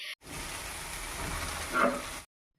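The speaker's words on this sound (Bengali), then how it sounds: "শুকনো লঙ্কা জিরে ফোড়ন দিয়ে পেঁয়াজটাকে লাল লাল করে ভেজে" Onion frying with dried red chili and cumin in hot oil for a dried Bombay duck fish curry, a steady close sizzle that swells briefly near the end before cutting off.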